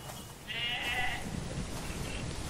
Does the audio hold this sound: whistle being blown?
no